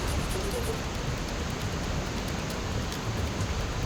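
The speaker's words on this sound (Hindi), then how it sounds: "नासिक में जमकर बारिश हो रही है और बारिश के चलते नासिक की गोदावरी जो नदी है उफान पर है" Heavy rain in Nashik with the Godavari river in flood, a dense, steady wash of rain and rushing water that stays loud and unbroken throughout.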